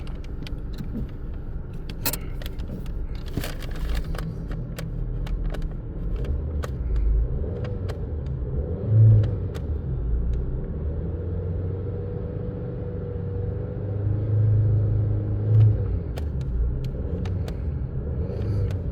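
Car engine idling steadily with a low, smooth rumble, fairly quiet and even, with light jangling and clicking mechanical sounds over it and no talk.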